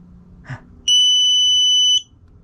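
A brief click is followed by a single loud, high-pitched electronic beep lasting about a second from a QUCC 200A relay battery management system, close by, then quiet.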